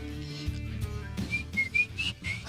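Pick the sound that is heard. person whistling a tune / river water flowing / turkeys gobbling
person whistling a tune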